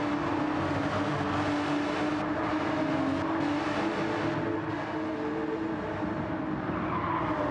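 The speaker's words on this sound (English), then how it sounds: "See the cars now coming through clearways." Porsche Cup race cars in a racing video game, Brands Hatch GP, a constant dense roar of engines passing with tire squeal and skidding layered over it, steady and loud throughout.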